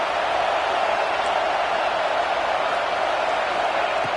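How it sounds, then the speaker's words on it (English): A football stadium crowd at an SMU versus Nebraska game roars in a steady, dense wall of cheering that holds loud and unbroken throughout, with no single voice standing out. "It's early, but this crowd is fired up. Listen to this noise here."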